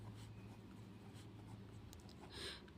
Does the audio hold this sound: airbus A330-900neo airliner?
no